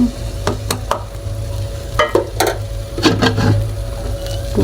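Chickpea halwa stirred in a pan after powdered milk is added, with repeated scraping and clacking spoon strokes in uneven bursts over a low hiss from the stove.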